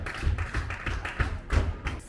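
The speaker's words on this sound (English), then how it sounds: "As we were walking through the courtyard, there was a flamenco dance class in session." Flamenco dance class footwork in a courtyard, a run of sharp heel-and-toe taps and thuds landing in uneven clusters, moderately close and clear, with no talking.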